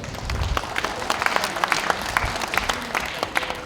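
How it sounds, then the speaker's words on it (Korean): Steady applause from an audience at a lawmaker's community report meeting welcoming a young student performer, a continuous wash of clapping with a few louder individual claps standing out, no speech on top. "큰 박수로 맞이해 주시기 바랍니다"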